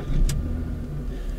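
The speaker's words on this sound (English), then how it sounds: "We'll take our key and we'll start the car." A Jaguar car is started with its key: a brief sharp crank burst, then a steady, low engine rumble settling into idle, heard up close.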